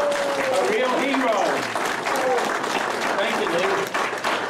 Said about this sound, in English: How about a special round of applause to a real hero?